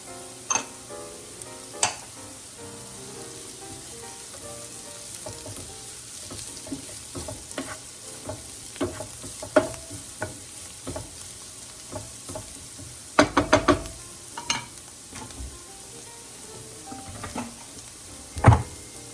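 Ginger and garlic frying in a pan for a bottle gourd sauté, a continuous sizzle broken by scattered clicks and utensil taps, with a brief burst of clattering midway.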